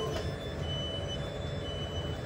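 Inside a moving Italian train, a steady low rumble and hum of the carriage runs throughout, with a faint tonal whine on top and no voices.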